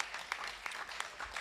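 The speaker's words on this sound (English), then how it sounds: "You guys can clap." Scattered clapping from a modest audience at a high school senior sports awards night, faint and uneven, with a few sharper individual claps standing out over the softer patter.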